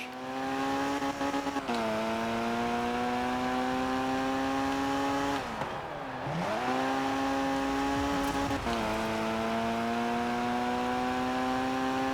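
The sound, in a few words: car handbrake turn in K74 Rivals video game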